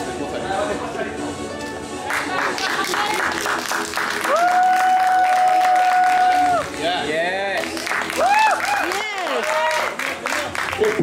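Audience at a natural bodybuilding contest cheering, whistling and clapping, with loud shouts and whoops over steady applause and a voice on a microphone in a lively hall.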